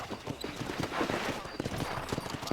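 Horse hooves clip-clop in a quick, steady gallop while riding in Red Dead Redemption, close and continuous, with voices talking over the hoofbeats.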